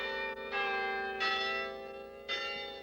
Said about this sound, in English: who pause in their rush to listen to the bells